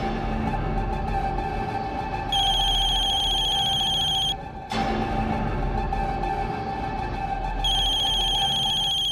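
A telephone rings with a bright electronic tone in two separate bursts of about two seconds each, loud and close, over a steady low background hum with no talking.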